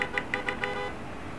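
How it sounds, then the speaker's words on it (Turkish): A Ford Focus RS horn in Forza Horizon 5, a right-hand-drive UK car, sounds five quick, evenly spaced toots over a steady engine and road hum. "Korna süper."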